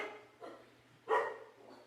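A dog barks a few times indoors, the barks fairly muffled and moderately distant, with a steady low hum underneath and no talk.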